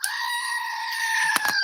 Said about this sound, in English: Brought to you by Screaming Goats.